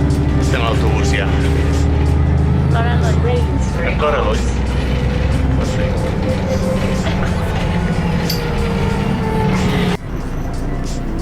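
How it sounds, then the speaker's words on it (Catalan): Inside a bus driving to Gatwick airport, a steady engine rumble and road noise run throughout, with a brief shift partway as the bus changes gear or slows. People talk close by over the drone. "Estem a l'autobús ja."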